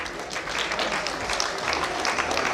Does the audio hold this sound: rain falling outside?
no